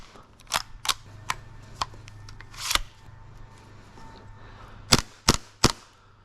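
A green gas airsoft gun loaded with 0.20 g pellets fires through a chronograph, giving sharp, close cracks: several single shots spaced apart, then a quick trio at the end, with quiet handling between.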